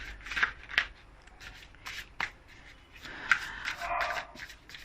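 Tarot cards shuffled by hand, with soft papery riffles and rubbing swishes in uneven bursts, close and fairly quiet.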